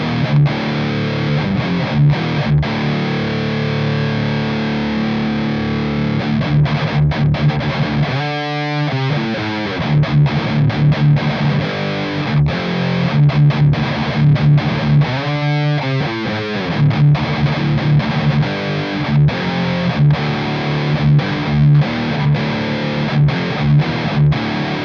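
Electric guitar played through a Joyo Zombie distortion pedal with a small EQ in the effects loop, mids scooped and lows and highs boosted, giving a thick, loud, continuously distorted tone with chugging riffs and a couple of brief pauses.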